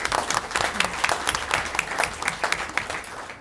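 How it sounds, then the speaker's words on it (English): Applause from an audience at a civic panel discussion on a legislative wrap-up, steady dense clapping throughout at moderate loudness with no talk over it. "Yeah, round of applause."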